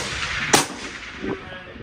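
A single rifle shot at a 400-yard target, fired by a ten-year-old shooter outdoors, gives one sharp crack that fades quickly into a faint echo against steady background noise.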